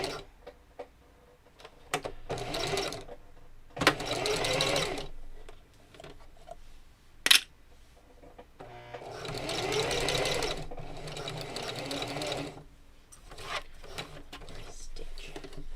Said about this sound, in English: I'm going to try and sew around it in like a square to hold it in place.